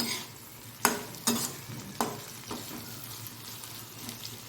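Bitter gourd slices sizzle and fry in a pan, a steady crackle broken by a few sharp scrapes and knocks of a spoon stirring them, with no voices.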